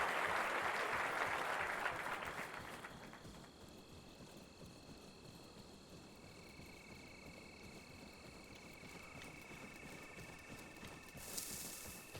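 A short burst of video game applause in Arma Reforger fills the first few seconds, then fades out, leaving a quieter steady background with faint tonal hums.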